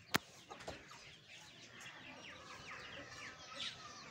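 Hens with their chicks cluck softly at a farm, with faint scattered peeps and clucks at a distance, a sharp knock near the start, and low background noise.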